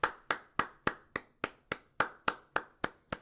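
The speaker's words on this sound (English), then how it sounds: "give us a round of applause for the MVP" A single pair of hands claps slowly and evenly, about a dozen crisp, close claps at a steady beat, after a call to applaud Warner Bros. Discovery CEO David Zaslav.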